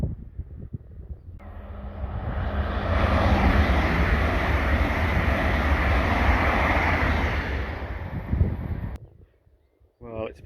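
Steam locomotive 60163 Tornado passing on the West Coast Main Line at Cranberry Fields, a loud, sustained broadband rumble that swells, holds for several seconds, then fades, with voices faintly present on a breezy afternoon.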